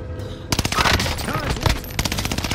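Rapid automatic gunfire in Call of Duty on Rebirth Island, loud close bursts of shots in quick rhythm with short pauses, mixed with game sounds and some voice in the background.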